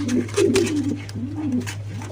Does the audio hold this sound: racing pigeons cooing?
yes